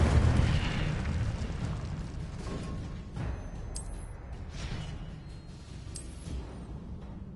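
Incendio fire spell cast in the video game Hogwarts Legacy: a loud, booming blast at the start that fades into a long, crackling rumble, with a few sharp pops later.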